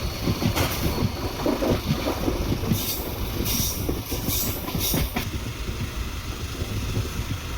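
A Tiruvannamalai to Tambaram MEMU passenger train runs along the line near Arani Road station, a loud, steady rolling roar with rhythmic clickety-clack and bursts of wheel hiss, no voices.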